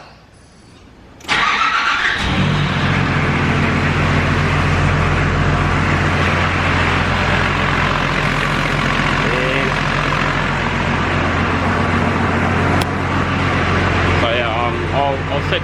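A Nissan GU Patrol just back from an oil change cranks and fires up with a sudden loud burst, then settles into a steady rumbling idle close by, while a voice can be heard faintly under the engine.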